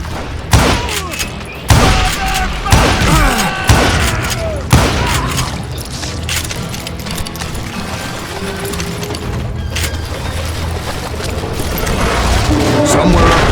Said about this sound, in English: It was then that a fusillade of bullets come raining down from on high.